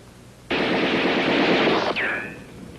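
Machine-gun fire in a 1966 film: a dense, loud burst starts abruptly, holds for about a second and a half, then cuts off into a descending whine.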